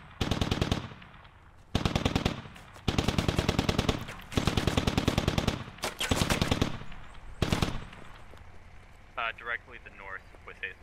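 Bursts of rapid automatic gunfire aimed at a BTR armored vehicle in the military shooter Squad, loud and close, in several separate volleys with short pauses, followed by quieter background sounds and a talking voice near the end.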